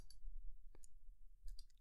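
Computer mouse clicks sound as a few faint, sharp taps spaced apart in a quiet room, including a right-click while working in code.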